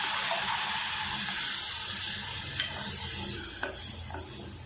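Masala of tomato, ginger and garlic paste being stirred and sautéed in a pan for chicken gravy, a steady close sizzle with occasional scraping clicks of the spoon throughout, no voices.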